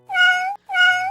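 A cat meowing in a children's story about a giant turnip, two loud, clear, drawn-out meows in quick succession, close and alone.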